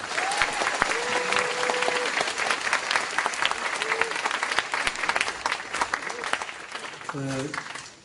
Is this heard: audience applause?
yes